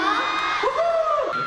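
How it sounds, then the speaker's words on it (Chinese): Fan-meeting crowd in Beijing cheering and whooping for Shining, the SHINee fans, with excited yells and shouts filling the short stretch at a steady, loud level. "我们再一次最热情的掌声送给我们的 Shining"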